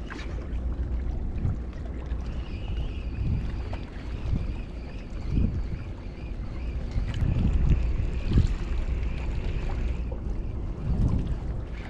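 Gusty wind buffets the microphone outdoors on the water during an ultralight fishing outing at dusk, a steady low roar that swells in stronger gusts toward the middle and end, with no one talking.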